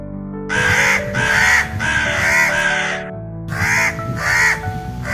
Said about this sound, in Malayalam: അടുത്തെത്തിയപ്പോഴേക്കും രണ്ട് കാക്കകൾ ബഹളം വെക്കാൻ തുടങ്ങി